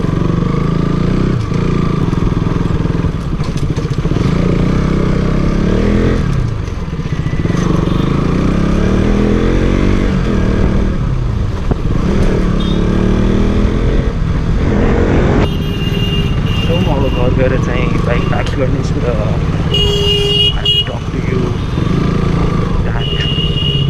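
A motorcycle rides along a road in Janakpur, its engine running loud and close throughout with steady drone and shifting pitch, plus wind buffeting and some clatter.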